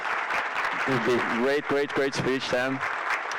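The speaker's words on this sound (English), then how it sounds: "A round of applause for Sam here." An audience claps for a guest speaker at a business talk, with a steady wash of applause running underneath a voice as he speaks over it.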